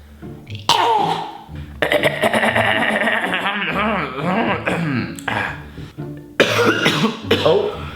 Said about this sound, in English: Oh, smoker's cough.